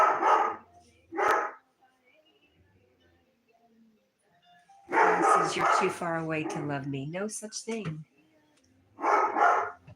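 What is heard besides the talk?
dog barking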